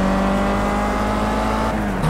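A loud, steady engine drone from an Audi race car in the game Project Cars at Monza, a constant high hum held throughout with a slight pitch shift near the end.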